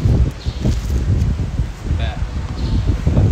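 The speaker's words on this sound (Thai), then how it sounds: "ดูดิลมแรงมาก" Strong wind buffeting an outdoor microphone, a loud, continuous low rumble with gusty surges and rustling, with a person talking over it.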